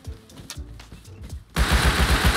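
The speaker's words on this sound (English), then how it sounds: "Don't you ever shoot at me" Gunfire crackles in the survival game Rust: scattered distant shots first, then a loud dense burst of rapid automatic fire sweeping in and continuing to the end.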